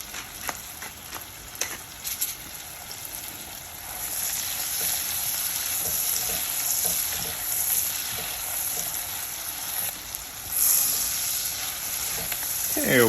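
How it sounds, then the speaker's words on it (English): Pearl onions sizzle in bubbling butter with a steady crackling fry that swells after the start, with a few sharp clicks of a pan or utensil near the beginning and no talk. "butter is bubbly, we're gonna add in our pearl onions."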